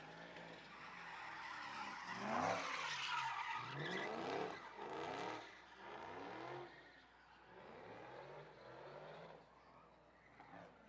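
A ute revs hard in short throttle blips as its tyres skid and squeal around a lot, the loud engine and tyre noise rising and falling in repeated bursts for the whole stretch.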